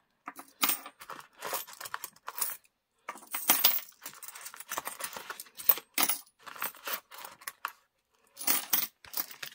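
Pound coins handled and dropped onto a surface, a series of close, bright metallic clinks and jingles in short bursts with brief pauses between them.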